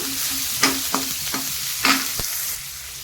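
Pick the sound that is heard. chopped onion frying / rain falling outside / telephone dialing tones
chopped onion frying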